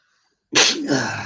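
One sharp, loud sneeze, close up, bursting out after a brief silence and trailing off quickly.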